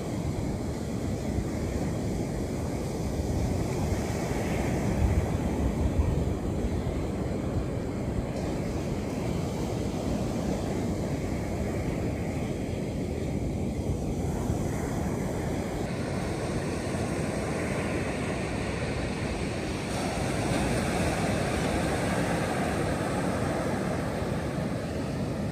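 Ocean surf rolls continuously onto Ruby Beach in Olympic National Park on a misty gray day, a steady broad roar of breaking waves with gusty wind buffeting the microphone and no talking.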